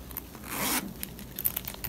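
A zipper on a Starbucks planner pouch is pulled open in one quick, close zip lasting under a second, followed by faint handling clicks and rustles in a quiet room.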